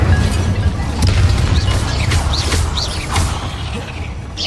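An Incendio fire spell cast in Hogwarts Legacy on PS5 sends out a whooshing burst of flame with crackling and rumbling effects inside a tomb, followed by a few sharp pops and bangs against a dense background.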